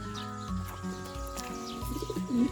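Racing pigeons in a derby loft coo in low, repeated, throaty phrases, close by, with soft bird chirps in the background and no talking.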